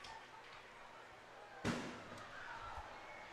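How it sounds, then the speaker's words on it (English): A single sharp firework bang cracks out over a baseball game in St. Joseph around July 3rd, loud against a low ambient crowd murmur, followed by a fainter pop. "A lot of fireworks going off here in St. Joe"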